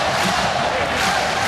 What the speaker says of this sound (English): There's a crowd making some noise, still filing in